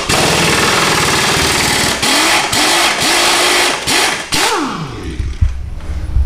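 A power drill with a quarter-inch bit bores out the leaf spring bushings on a 1996 Ford F150, its motor whining up and down in several close, loud bursts before winding down.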